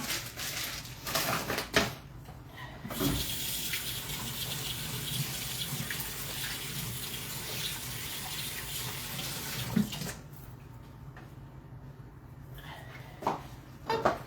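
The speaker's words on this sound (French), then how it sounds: "Hop, je me lave les mains." A kitchen tap runs steadily while hands are washed during lasagne preparation, a continuous close water rush with brief splashes and clatter at the start and end, no talking.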